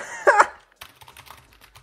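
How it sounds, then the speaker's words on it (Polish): A brief vocal sound is followed by light, quick clicks of keys typed on a wired mechanical keyboard connected to a phone, close by and fairly soft. "czy można podłączyć klawiaturę przewodową pod nasz telefon?"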